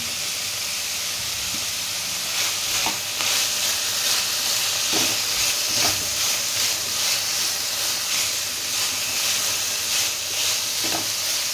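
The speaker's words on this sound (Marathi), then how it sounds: "आता यामध्ये आपण हे गाजर आणि कांदे टाकून घेऊया। हे देखील आपण थोडे फ्राय करून घ्यायचे।" Carrots and onions frying in a pan, a loud, dense, continuous sizzle and hiss with periodic stirring strokes, heard up close with no voices.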